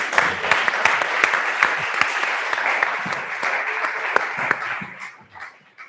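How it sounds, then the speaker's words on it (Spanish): An audience at a Basque cuisine gastronomy event bursts into sustained, dense applause with sharp individual claps, loud and steady before fading out near the end. "¿no aplaudís o qué?"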